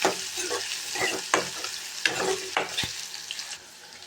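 Finely chopped large onion sizzles in a pan with crackling frying noise and repeated scraping stir strokes close by, the sizzle easing toward the end.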